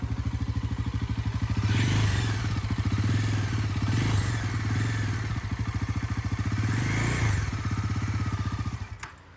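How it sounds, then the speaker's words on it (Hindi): A Bajaj Pulsar NS motorcycle idling nearby, its engine thumping in a fast, even pulse with a few blips of the throttle swelling and easing back before it cuts off at the end. "बाइक का साउंड भी काफ़ी अच्छा है।"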